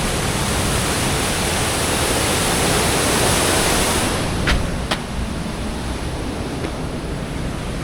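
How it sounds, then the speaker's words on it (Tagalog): A strong river current rushes past, a steady loud broadband roar of flowing water heard up close with a couple of brief clicks near the end. "Lakas ng agos oh."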